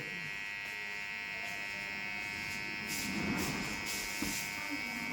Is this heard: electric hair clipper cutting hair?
yes